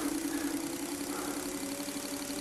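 An electric motor rated for 24 to 32 volts runs off a Longwei 10 A, 30 V bench power supply, giving a steady, faint, continuous hum with a low tonal drone and no talking.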